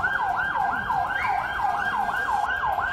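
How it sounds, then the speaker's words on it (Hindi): Ambulance siren wailing in a fast, steady up-and-down cycle after an explosion in Istanbul, loud and continuous with traffic noise beneath, no voices. "इसी दौरान एम्बुलेंस घायलों को अस्पताल ले जाने पहुँच गई"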